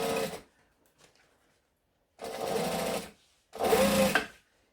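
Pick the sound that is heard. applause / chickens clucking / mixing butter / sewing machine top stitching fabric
sewing machine top stitching fabric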